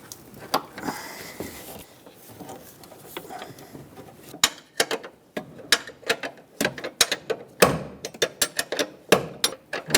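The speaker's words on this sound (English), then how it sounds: "Now use an 18mm wrench to remove this mounting bolt" An 18mm wrench breaks free and turns a right engine mount bolt on a 2012-2018 Nissan Altima 2.5L, giving sharp metallic clicks and ratcheting taps that start sparse, then come in quick irregular bursts, close and fairly loud.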